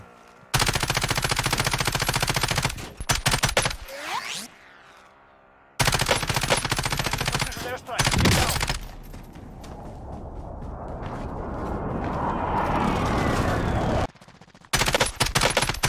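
Automatic gunfire in Warzone, long loud bursts of rapid machine-gun shots broken by short pauses, with a fading echoing tail between bursts.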